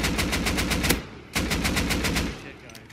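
Rapid automatic gunfire from the video game Rust comes in two loud, close bursts of evenly spaced shots with a short pause between them, and fainter shots trail off at the end.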